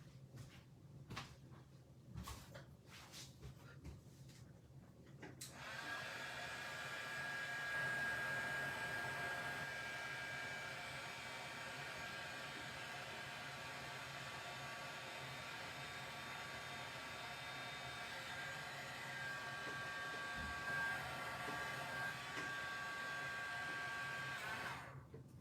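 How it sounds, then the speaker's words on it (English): A heat gun switches on after a few soft handling knocks and blows hot air in a steady, even whooshing roar with a faint high whine, running continuously near at hand over paper crafting. "I'm gonna run this under my heat gun now"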